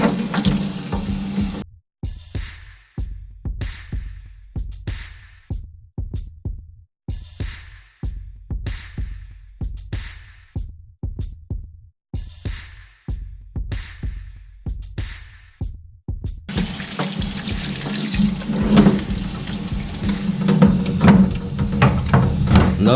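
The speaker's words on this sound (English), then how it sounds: "Don't be afraid to get that water up in there." Water sprays in bursts over an RC car being washed, with a steady hose hiss at the start and again at the end and a run of short repeated splashes in between. No one speaks.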